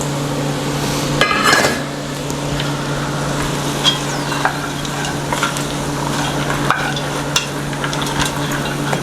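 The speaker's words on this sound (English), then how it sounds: "Give that a nice stir." Beans with garlic being stirred in a cooking pot, giving steady scraping and clinking of a utensil with soft sizzling underneath and a louder clatter early on, close and without talk.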